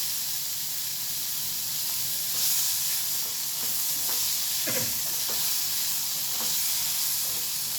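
Bitter gourd slices frying in oil with curry leaves, a constant loud hissing sizzle with occasional scraping stirs of a spatula through the pan.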